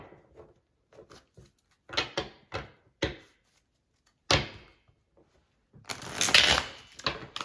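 Tarot cards riffle and snap in several bursts, with a longer, louder shuffle toward the end, recorded close with no talking.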